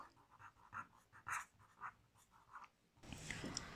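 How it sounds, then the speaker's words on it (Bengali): Writing on paper while numbers are worked out by hand, a run of short scratchy pen strokes in quick bursts, close and faint, ending in a louder rustle of the page. "আমরা লিখব 36-এর গুণনীয়ক।"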